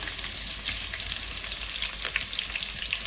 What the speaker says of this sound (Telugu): నూనె కాగింది కానీ జీలకర్ర వెల్లిపాయ వేసుకుందామండి